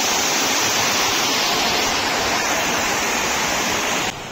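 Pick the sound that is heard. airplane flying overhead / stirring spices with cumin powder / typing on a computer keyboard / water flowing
water flowing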